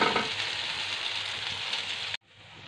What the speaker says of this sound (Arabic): صافي المقله ديالنا راه بدات كطيب